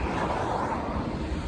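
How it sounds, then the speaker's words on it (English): Wind and rain outdoors in Kesennuma, a steady broad rushing wash with no distinct drops, heard alone without talk. "It started raining and it's windy as well."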